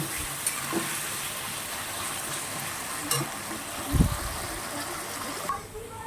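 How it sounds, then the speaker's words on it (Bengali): Potatoes frying in a pan for an ichor and prawn dish, a steady soft sizzle running throughout, broken by a few clinks and a stir of the pan. "এখন আমি আলুটা পুরোপুরি ভেজে নেব। একটু লাল লাল করে ভেজে নিয়ে তারপর আমি তুলে নেব।"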